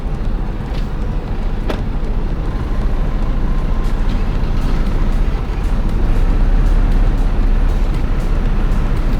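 A car engine strains in third gear, producing a loud, continuous low rumble with wind and road noise that grows slightly heavier over time, with no talking.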